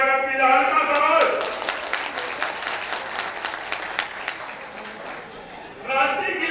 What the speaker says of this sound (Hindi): हम चाहते हैं कि उनका जोरदार तालियों से स्वागत किया जाए।